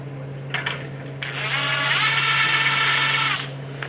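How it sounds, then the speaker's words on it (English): A drum brake parking plate being unbolted from a Ford F100's narrowed 8.8 rear axle, a short tool burst followed by a sustained whirring, ratcheting power-tool run lasting a couple of seconds, close and fairly loud. "this whole drum brake parking plate. Just unbolts and comes right off."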